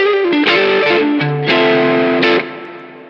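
Electric guitar through a TS10 overdrive into a Bad Cat Hot Cat 45W EL34 tube amp head and matching 2x12 cabinet with reverb, a short run of distorted notes and chords ringing out, then decaying.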